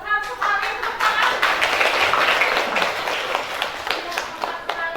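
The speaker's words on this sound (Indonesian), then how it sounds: "tepuk tangan" A class of students claps together in a classroom lesson, a dense patter of hand claps that fills the whole stretch at a steady level, with some voices mixed in.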